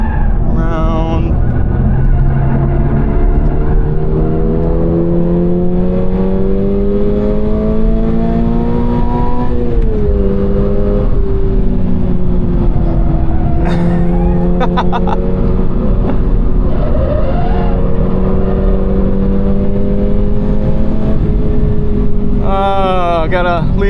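A Toyota GR86 on the Sonoma race track, its engine loud and steady from inside the cabin, pitch climbing through the gear then dipping and rising again through a double-apex corner, with brief tire and shift noises near the end.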